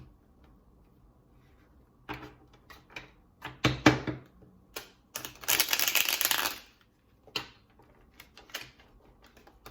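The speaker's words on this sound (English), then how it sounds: "I'm gonna have to do another little shuffle here" Tarot cards being shuffled in several quick riffling bursts, with crisp broadband flutters and a few taps between them, close by and with no talking.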